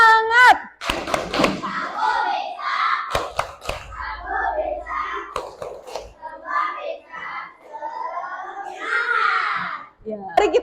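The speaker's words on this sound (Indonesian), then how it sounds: "Kita tepuk semangat dulu yang semangat." A primary classroom does rhythmic spirit clapping, sharp claps in short bursts alternating with children chanting and a teacher's voice, loud and close.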